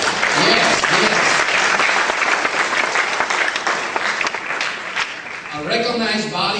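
Loud, close audience applause fills the room at a Zomi national history gathering in Thailand, a dense continuous clapping that fades slightly before swelling again, with a voice heard near the end.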